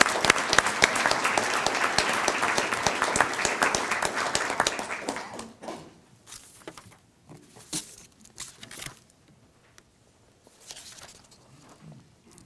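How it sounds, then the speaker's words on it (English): Applause from a large audience at an employee ownership conference in Ohio: dense, loud clapping for about five seconds, then thinning to scattered claps, shuffling and faint room noise. "Let's give a big round of applause for all our professional service providers."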